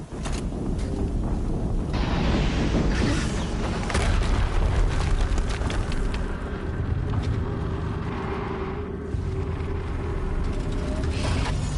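A loud, deep explosion in the video game Horizon Zero Dawn rolls out as a sustained, rumbling boom that fills the whole stretch with heavy low-end roar and no talking.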